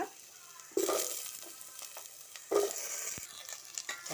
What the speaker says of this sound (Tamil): எல்லா காயும் சேர்த்தாச்சு இந்த தேங்காய் எண்ணெயில் போட்டுடலாம்